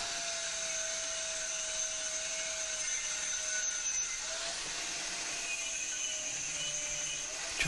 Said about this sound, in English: we're going to do a little grinding to take some stuff off